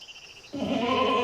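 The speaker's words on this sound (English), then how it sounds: "it's the sound of a goat that is frustrated at being isolated from other goats" A loud, strained bleat from a goat frustrated at being isolated from other goats starts abruptly after a brief quiet moment and holds steady to the end, close and harsh.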